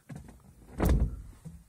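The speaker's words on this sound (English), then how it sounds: "And now I open my door and there's no one." A car door opens in a single brief thunk with a latch click, close and fairly loud, set apart by quiet moments before and after.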